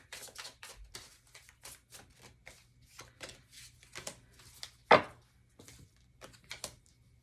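Tarot cards are shuffled and handled with a quick run of soft papery slaps and riffles, close and fairly quiet, ending in one sharper snap as a card is drawn.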